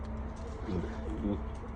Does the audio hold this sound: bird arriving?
yes